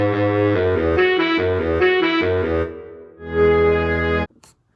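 A short original composed theme piece plays on its own, with sustained harmonic chords changing every half second or so, a brief pause, then one held chord that cuts off sharply near the end.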